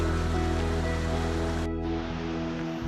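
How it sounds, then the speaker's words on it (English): A two-tiered waterfall on Game Hog Creek in Oregon's Tillamook Forest roars as a steady, close, broadband rush of falling water, continuous throughout with no voices. "this two-tiered waterfall"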